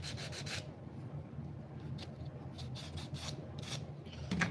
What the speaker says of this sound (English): all sanded down. All our bevels are cut in